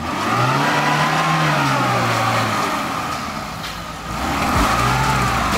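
A Lada Niva stuck off-road revs hard, its engine droning loudly and close with rising and falling pitch, dipping briefly before surging again.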